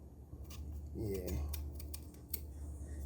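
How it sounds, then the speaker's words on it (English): A knife chops through sweet potato in a home kitchen, giving a few quiet, irregular cuts and taps against the board under faint low background rumble. "So I'm here cutting up sweet potato."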